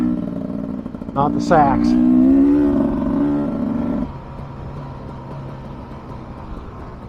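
A 2023 Beta 300 Race Edition two-stroke motorcycle revs close by, a loud rising, rasping engine note that climbs and then drops back to a lower drone, with a voice speaking briefly.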